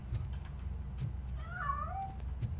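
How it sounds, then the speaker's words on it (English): A cat meows in the video game RoboCop: Rogue City, one drawn-out, mid-pitched meow over a low background hum, fairly faint and with no talking. "That cat must be hiding inside."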